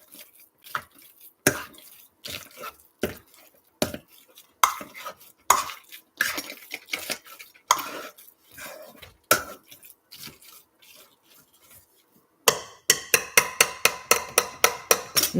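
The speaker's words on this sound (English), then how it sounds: "I like using the hand masher because I like them kind of chunky" A hand masher works through baked potatoes in a bowl, giving irregular soft squelching thumps and scraping knocks, then a quicker run of regular taps near the end, close and alone.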